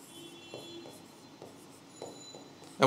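A pen or marker writes on a board in a quiet room during a Bengali grammar lesson, making a series of short scratching strokes in an irregular rhythm, with a louder scrape at the end.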